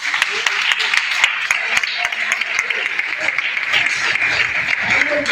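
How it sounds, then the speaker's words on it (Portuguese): A church congregation claps along in a steady, even rhythm, many hands at once, continuous through the moment while voices talk over it. "Vamos ver as palmas."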